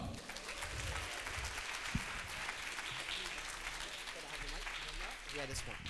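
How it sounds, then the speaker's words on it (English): A crowd at a vegan festival talk in London gives a speaker a welcoming round of applause, with sustained, dense clapping and a faint murmur of voices underneath. "please, for a big round of applause, Tobias Leenaert."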